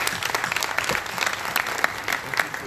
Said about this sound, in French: professeur Birahim Gueye, que je souhaiterais qu'on applaudisse.